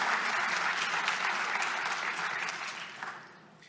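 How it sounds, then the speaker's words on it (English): A tech conference audience at a talk on cloud-native telco observability gives a short burst of steady applause that gradually fades out over a few seconds. "with a round of applause"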